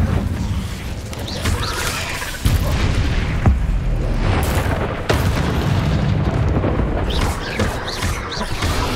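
The Incendio fire spell in Hogwarts Legacy on PS5 erupts as a dense, booming roar with heavy low rumble and sharp bursts, loud and continuous throughout.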